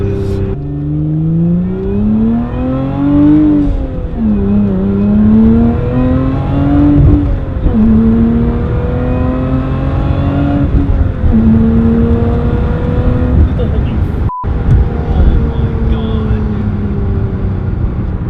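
A tuned Lotus Emira with extra boost accelerating hard through the gears, its engine droning loud and close as the pitch climbs, drops at each shift, and climbs again over several pulls, with a sharp click near the end.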